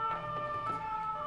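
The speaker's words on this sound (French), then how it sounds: "ambulance." Ambulance siren wailing in the distance, a steady tonal whine with slight pitch sweeps over low background rumble, heard alone for about a second.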